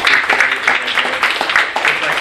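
Room of people at a city council oath-of-office meeting applauding the public works staff, steady dense clapping close by with voices mixed in.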